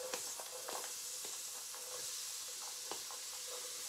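Celery hitting a hot pan for shrimp étouffée gives a faint, steady sizzle with soft hiss and scattered light crackles, close and continuous, no voices.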